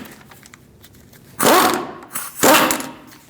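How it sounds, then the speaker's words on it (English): Power tool with an 18mm socket spins off a front wheel hub nut on a 2002-2006 Toyota Camry, two loud close bursts of buzzing rattle over a quieter workshop background. "Now we're going to take off this nut with an 18mm socket."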